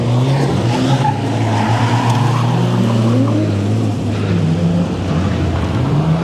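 A turbocharged drift car revs hard on boost at a beginner drift night, loud sustained engine drone with shifting pitch, tyre squeal and other car noise around it in the open air.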